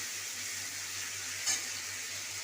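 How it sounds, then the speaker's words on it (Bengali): Oil spitting in a pan of frying onion with ginger, garlic and green chilli paste, a steady soft sizzling hiss with one brief louder pop midway, no voices. "তেলটা ছিটাচ্ছে খুব"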